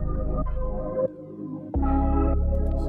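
A processed bass one-shot sample built from Samudai Essential Bass, layered with OTT compression, flanger, Decapitator saturation and Beefy bass plugins, plays as loud sustained synth tones in three sections with a brief quieter dip in the middle, no voices.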